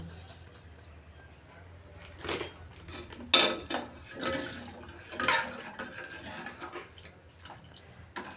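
Milk powder and sugar stirred into masala milk in a pot, with a spoon clinking and scraping against the metal sides in a few irregular strokes over soft liquid swirling, close and moderately quiet.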